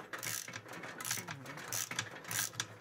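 A Craftsman ratcheting wrench on a 2002 MXZ 700 snowmobile clicks in quick bursts, several rapid ratchet runs separated by short pauses, close up and clear.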